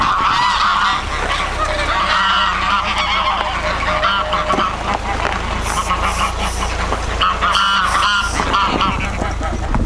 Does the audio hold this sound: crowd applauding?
no